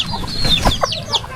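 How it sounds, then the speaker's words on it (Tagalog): Chickens and ducks at feeding time on a farm in Infanta, Quezon: a close flurry of clucks and short squawks overlapping in quick bursts, loud and busy without any talk. "Hindi lang po pala manok, pati mga pato."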